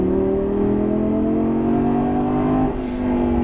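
A Lamborghini engine on a fast section of a racetrack, revving steadily with a rising pitch, then a brief dip as it shifts gear, loud and close from inside the car.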